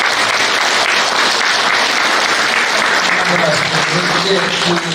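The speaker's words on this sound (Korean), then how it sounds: "그분들에게 박수 한번 보내주시기 바라겠습니다" Audience applause at a party's founding convention in a hall, a loud continuous roar of many people clapping throughout, with faint voices and a brief tonal sound near the end.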